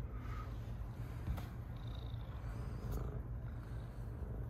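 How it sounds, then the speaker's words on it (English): A calico or bicolor cat purrs softly and steadily up close, a low continuous rumble in a quiet room. "Listen to that purr."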